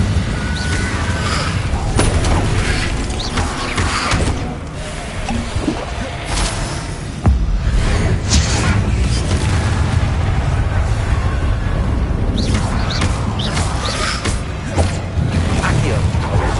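Repeated Incendio fire spells burst in Hogwarts Legacy, loud booming blasts and crackling impacts arriving one after another through dense combat noise, with a voice calling out spell names over them.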